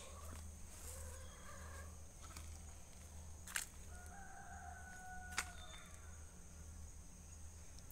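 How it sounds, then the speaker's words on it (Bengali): Chickens and a rooster in a home yard, with a faint, distant crow and scattered soft clucks over a steady low background hum, no voices. "ওই যে মুরগি"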